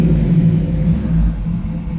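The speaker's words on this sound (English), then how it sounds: "Car runs really well, accelerates nicely, no flat spots." A 1968 Camaro RS with an updated drivetrain and automatic transmission rumbles loudly and steadily from a V8 engine while accelerating on a test drive, a continuous close engine drone with no speech.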